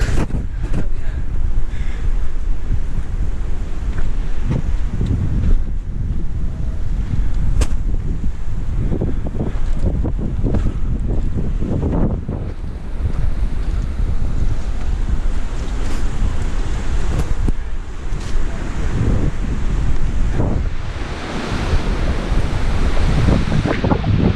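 Strong, steady wind buffets the microphone on a mountain trail headed toward an overlook, a loud continuous roar with gusty surges throughout.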